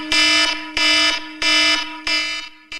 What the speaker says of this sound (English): It's like almost like your mobile phone alarm that goes off in the morning, which is the worst fucking noise in the world.